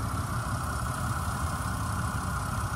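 A 2006 Chevy Uplander's 3.5 liter V6 engine idling steadily, a smooth continuous hum with a low rumble and no talking.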